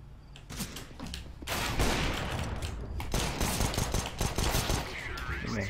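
Rapid gunfire in the video game CS:GO during a Wingman match, loud bursts of shots that begin after a quieter opening and continue in dense volleys, with a voice talking under the shooting.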